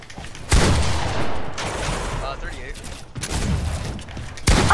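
Prime shotgun blasts in Fortnite, several loud, sharp shots at irregular intervals, close and punchy, with a player talking between them.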